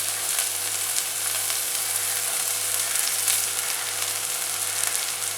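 Onions frying in a pan for spicy garlic onion rice give a steady, even sizzle with a soft crackle, constant and close with no voices.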